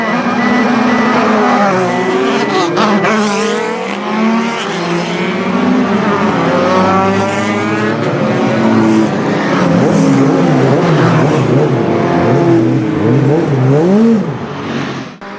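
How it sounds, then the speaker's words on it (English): Race cars pull away from the grid on a warm-up lap at Mondello Park during a BOSS race meeting, several engines revving loudly and continuously with pitch rising and falling as they accelerate past. "And off they go for a warm-up lap."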